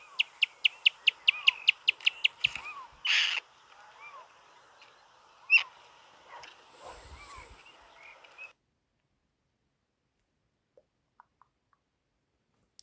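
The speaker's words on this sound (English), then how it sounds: "I think it's a black kite." A black kite calls with a rapid run of high, repeated whistling notes that trails into scattered cries and chirps, fairly faint and distant, before the sound fades to near silence.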